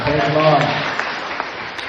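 A church congregation claps in a big round of applause during a Kannada worship service, a dense patter of many hands that starts under a speaking voice and then continues steadily on its own.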